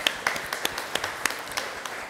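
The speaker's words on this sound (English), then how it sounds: "Can we have a round of applause, please?" Audience applause after a session at a design and storytelling event, heard as scattered, uneven individual claps rather than a dense roar, fairly close and without voices.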